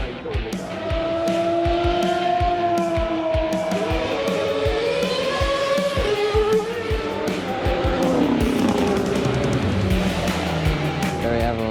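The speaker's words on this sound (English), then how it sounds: "Let's hear some crazy F1 noise." Formula 1 race car at the Goodwood Festival of Speed screams loudly at high revs, its pitch rising and dropping through rapid gear changes, with crowd noise faintly underneath.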